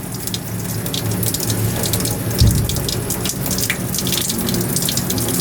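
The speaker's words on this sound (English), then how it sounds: "now with the tap, when you mix the acid with the water" Steady rushing water pours continuously from a tap, with a brief thud partway through.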